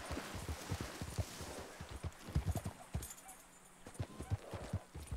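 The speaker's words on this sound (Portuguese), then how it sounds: "Isto é um cavalo da carroça" Cart horse hooves clip-clop on the ground in the Red Dead video game, an uneven run of crisp, fairly close hoof strikes with a brief pause near the middle.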